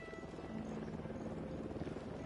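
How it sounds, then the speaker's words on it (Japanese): Helicopter in the Ghost Recon Wildlands video game, a steady low rotor drone with a faint airy whine that hangs on continuously at a distance, quiet and with no talk over it. "なんかヘリ飛んでるな、ずっと。"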